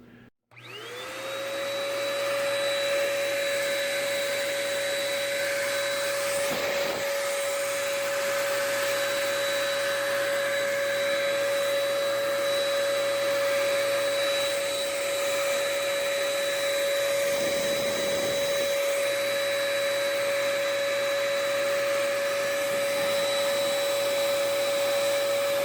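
A paint spray gun runs continuously with a high, steady whine and airy hiss like a tiny vacuum cleaner, starting with a click and spin-up, with brief dips where the airflow changes.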